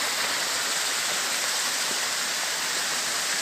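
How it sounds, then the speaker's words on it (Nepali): A waterfall in the monsoon-season hills on the road from Kalimpong to Santook, roaring as a steady, dense rush of falling water that holds without a break. "वाटरफल भएको रहेछ।"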